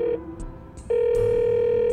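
A telephone receiver is lifted on a desk line routed through a scrambling telecommunication module, bringing a steady electronic tone that drops briefly and returns as a continuous hum, with a few faint clicks over it.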